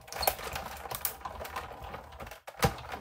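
Card runs through a die-cutting machine while segments are cut out, producing irregular close clicks and rattling taps with brief pauses, fairly quiet.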